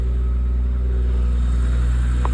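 A BMW engine runs at a steady idle close by, a constant deep hum with a smooth, even rumble and a faint brief tick near the end, with no talking.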